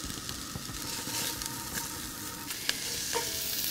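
Onions soften in a pan with freshly picked thyme, a close, steady sizzle with light crackles and a few sharp clicks of a utensil against the pan, no voices.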